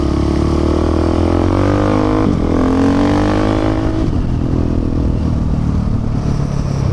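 A 2019 KTM 690 or Honda Africa Twin motorcycle on the move, its engine droning loud and steady with pitch shifts as it rides, and wind noise throughout.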